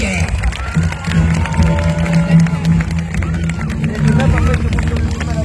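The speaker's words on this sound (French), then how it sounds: "Optimus Prime, qui nous quitte sous les applaudissements du public." Crowd at a Transformers stunt show cheering, clapping and shouting in a loud, busy hubbub, with music and speech mixed in underneath.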